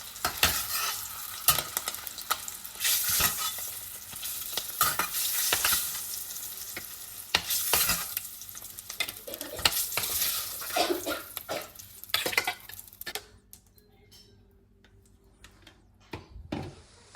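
Eggs frying in oil in a pan, a close, crackling sizzle broken by repeated sharp clacks and scrapes from stirring, fading quieter toward the end.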